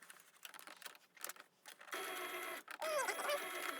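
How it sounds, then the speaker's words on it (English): Sewing machine running a short tack stitch to hold elastic on a homemade N95-type fabric mask, a few soft taps and then a steady close mechanical whir that briefly stops and restarts. "you're going to do one stitch in the middle just to keep this sort of in place"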